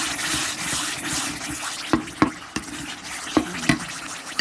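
Tamarind water is poured and stirred into chili paste with mackerel, a wet swishing and hissing texture broken by several sharp clacks of the utensil against the pan.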